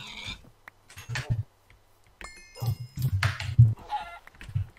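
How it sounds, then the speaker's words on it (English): Chickens in a video game cluck and murmur in short bursts over a low game background hum, with a few brief higher chirps mixed in. "Chickens. Oh, chickens as well."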